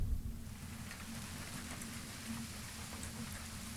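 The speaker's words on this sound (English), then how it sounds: "You can hear the water in the drain pipe." Steady rain patters softly, with a low trickling rush of water running through a pipe underneath, faint and continuous.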